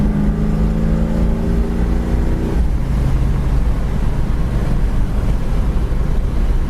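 A 1972 dark green Ford Mach 1 cruising at about 65 mph around 2,700 rpm, a steady low engine drone mixed with loud road and wind roar; a brief higher engine tone fades early on.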